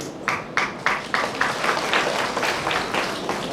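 An audience at an inauguration of development works, including a vaccine van and ambulance, in Botad breaks into applause, a string of clustered claps that swells and settles into steady clapping, with faint voices underneath.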